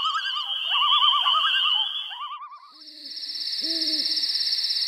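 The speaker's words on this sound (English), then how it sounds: "Those other sounds that the two males are making means that they are either feeling threatened or being" Two male ornithopod dinosaurs make territorial calls: rapid warbling trills over a high whine, then a steady piercing tone with lower, short hooting calls beneath it. The calls are close and fairly loud.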